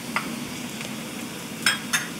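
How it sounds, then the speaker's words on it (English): Ground turmeric, cumin and coriander powders are stirred into soft frying onion, giving a steady low sizzle with a few sharp spoon scrapes against the pan, the clearest pair near the end. "This onion is nice and soft now, so I'm going to add turmeric powder, cumin and coriander powder"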